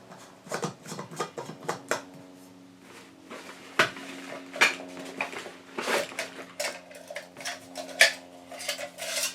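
Metal camp stove kit parts clink and rattle as they are handled, with a busy run of light ringing knocks and scrapes, some pieces sliding and tapping together, close and moderately loud with no talk.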